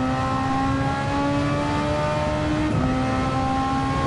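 Race car engine in Gran Turismo 7 on the Tokyo Expressway circuit, a loud sustained whine with pitch climbing through a gear, a brief dip and shift near the end, then rising again, no voices.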